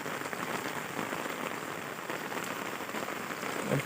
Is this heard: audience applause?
no